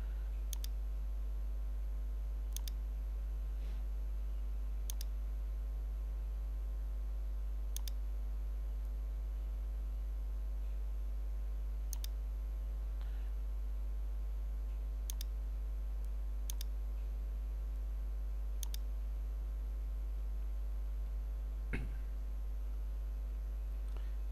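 Computer mouse clicks while working in Revit MEP 2017 software, sharp isolated clicks spaced a few seconds apart over a constant electrical hum, with no talk.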